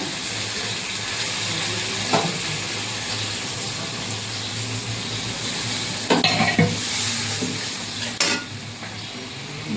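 Onion with a ground paste of cumin, coriander, chilli and ginger frying in a pan with a splash of water, a steady close sizzle broken by a few louder stirring scrapes.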